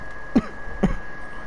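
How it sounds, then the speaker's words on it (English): Two short, rough coughs or throat clears, about half a second apart, close and moderately loud over a faint steady hum. "Oh, this cough is getting really bad."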